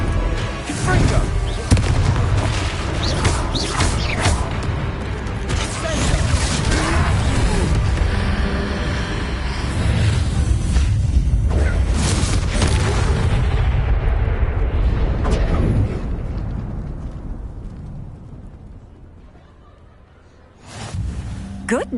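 Confringo fire-spell blasts in Hogwarts Legacy during a fight with a troll, loud booming explosions and crashing battle noise that run on for many seconds and then die away, followed by a fresh burst near the end.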